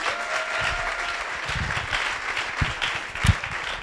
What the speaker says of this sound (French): On applaudit, merci les gars.